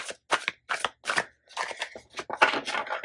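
Quick, crisp riffles and snaps of a deck of cards being shuffled for a spirit card reading, close and clear in short irregular bursts with no talk.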